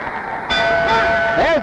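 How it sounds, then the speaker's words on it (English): A boxing round bell rings out at a welterweight championship fight in Miami Beach, Paret against Griffith. It is a sustained metallic tone that rises sharply over steady arena crowd noise and carries on to the end. "There's the bell."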